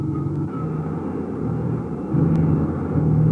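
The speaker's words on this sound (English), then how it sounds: "This is the Army Variable Speed Firebee Jet Target." Ryan Firebee jet target aircraft of the Army variable-speed type in flight, a steady loud low rumble of a jet engine that swells slightly louder toward the end, with no talk.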